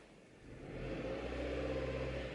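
A car engine starts up and settles into a steady, low idle hum with a faint whir, rising slightly in volume then holding constant.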